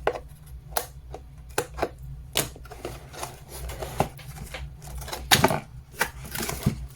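Packaging for an Einhell CE-AP 18 Li Solo cordless air pump being cut open, with irregular short snips, crackles and plastic rustles at close range over a low steady hum, no talking.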